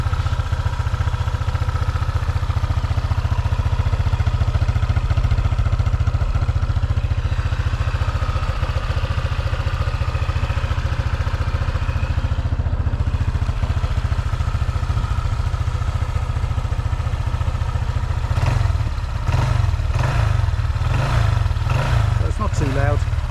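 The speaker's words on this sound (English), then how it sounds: "I just thought I'd start it up and you can see what it sounds like." A Honda ADV 150 scooter-style motorcycle with a modified exhaust idles on its center stand, a loud, steady low engine drone that turns into several quick throttle blips toward the end.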